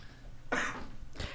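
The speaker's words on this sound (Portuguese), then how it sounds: "Quando tosse, falam que bate, né?" A person coughing after smoking, two harsh, close coughs about half a second apart over a quiet room background.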